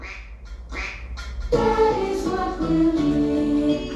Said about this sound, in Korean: 맞아, 오리 소리 들었지?